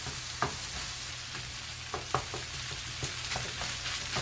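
Egg fried rice with garlic, ginger, onion and beef sizzles steadily in a hot pan while a spatula folds and breaks up the rice, with sharp periodic scrapes over a constant close frying hiss.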